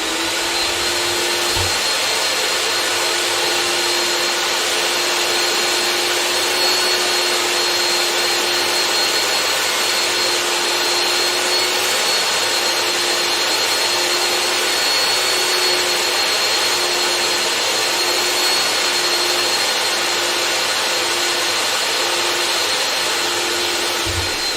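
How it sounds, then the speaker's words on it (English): A workshop vacuum cleaner sucks up wood shavings in a steady, loud, unbroken roar with a constant motor whine, running alone without talk. "Another bit of jet propelled vacuum."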